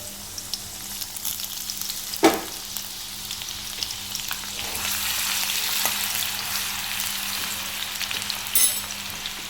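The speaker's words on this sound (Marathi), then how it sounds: "त्याच्यानंतर आपल्याला हा लसूण ठेचून घेतलेला नाही तो घालून घ्यायचा आहे" Crushed garlic frying in oil in an iron pan, a soft steady sizzle with a few louder clanks and stirring scrapes scattered through, close and moderately quiet.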